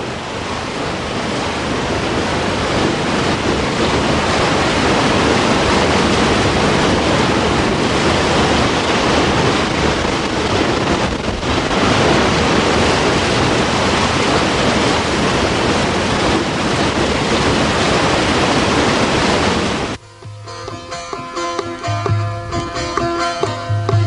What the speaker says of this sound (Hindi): नीचे बल खाता हुआ दरिया है।